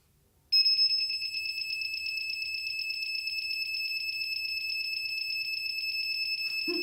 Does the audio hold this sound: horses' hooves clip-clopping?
no